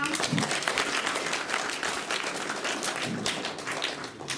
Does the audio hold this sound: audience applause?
yes